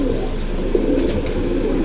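Pankhi pigeons coo at a busy pigeon market, a low rolling burble that sits close and fairly loud over a steady background din.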